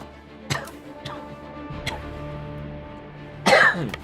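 Several dry coughs, a few short ones early and a louder harsh cough near the end, close to the listener with a low hum underneath.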